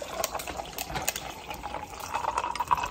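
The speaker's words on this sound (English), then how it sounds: "Now let's pour into our ice." A drink poured from a container over ice in a cup, with a steady close liquid pour and bright fizzing crackle running throughout.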